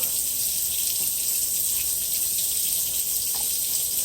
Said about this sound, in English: Make sure you got running hot water.